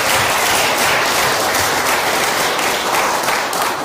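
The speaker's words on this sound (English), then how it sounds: "So round of applause, and thank you," An audience at a council meeting applauds a guest named Tim, a dense, steady wash of clapping hands that fills the room at full volume throughout with no pauses.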